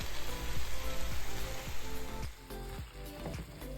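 Beans, chopped tomatoes and kale sizzle and crackle in a hot skillet, a steady close frying hiss with small pops and occasional stirring scrapes, no voices.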